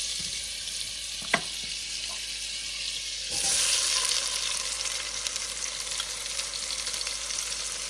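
Chopped onion hitting a pan of melted butter, a steady sizzle that swells noticeably louder midway as the onion goes in, with small clinks and stirring noises and no speech.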